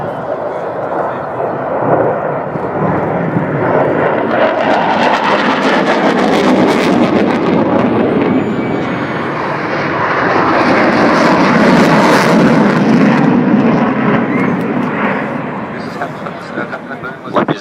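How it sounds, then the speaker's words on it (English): An F-111 jet making a fast maximum-rate turn at the RAAF Williamtown air show, a loud continuous roar that swells, dips and builds again, with an announcer talking over it on the public address. "now the F-111 going faster, so taking out this ground in the maximum rate turn"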